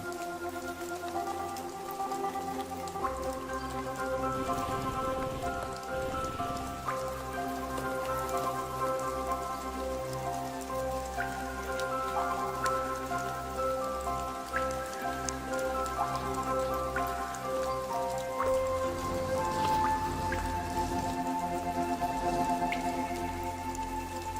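Rain falls steadily on leaves, a dense continuous pattering with scattered drips, heard under sustained background music with no talking.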